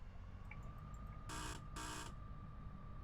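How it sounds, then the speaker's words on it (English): Two harsh broadband buzzer bursts from a guard's buzzer in Train Sim World 3 on the Midland Main Line, each about half a second with a short gap, sounding over a steady low cab rumble and a faint tone. "Also, that's what the guards buzzers sound like."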